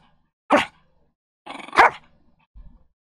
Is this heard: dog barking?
yes